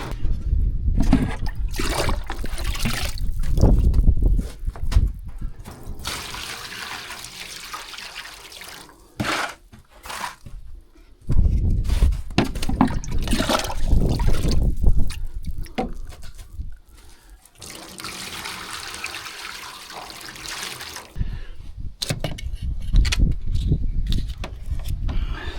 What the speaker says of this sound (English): so I gotta get some liquid on here